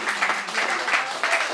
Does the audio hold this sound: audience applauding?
yes